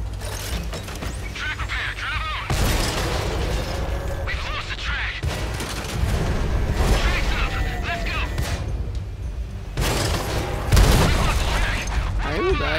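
Tank cannon blasts in World of Tanks, an American T29 firing and taking hits: several heavy booming bursts spaced a few seconds apart, each with a sharp onset and rumbling decay over mechanical clanking and engine noise.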